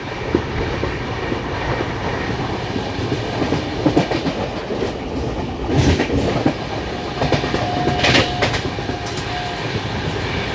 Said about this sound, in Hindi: और यहाँ पर हमें क्रॉस कर रही है दौंड इंदौर एक्सप्रेस, जो पहले पुणे इंदौर हुआ करती थी।